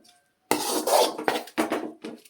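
Raw jackfruit palya being stirred and fried in a pan, with a metal spoon scraping and clattering against the pan in several quick strokes after a short silence, close and fairly loud.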